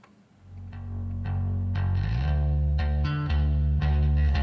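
A deep, slightly distorted bass line plays a sequence of low notes in steady rhythm, with a driving attack on each note.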